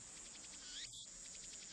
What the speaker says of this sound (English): these frickin' cicadas are driving me nuts!